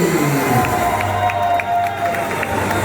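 Wedding guests cheer and shout for the newlyweds in a steady, loud wash of crowd noise, with scattered whoops and voices mixed in throughout.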